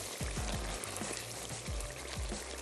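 A small splash of water is poured into masala frying with potatoes in a pot, a short steady pour over sizzling and low rhythmic clinking close by.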